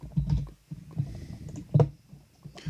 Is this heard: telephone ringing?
no